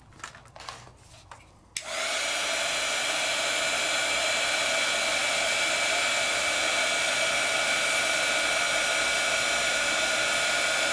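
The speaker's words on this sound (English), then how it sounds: "Hit it with my heat tool." A few light taps and rustles come first, then a craft heat tool switches on and blows a loud, steady whooshing hiss over embossing powder until the end.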